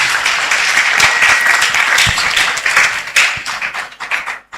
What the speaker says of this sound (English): I believe they need another round of applause.